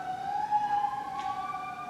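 An emergency vehicle siren passes, a steady wailing tone with bright harmonics sounding at moderate distance and holding fairly even in loudness.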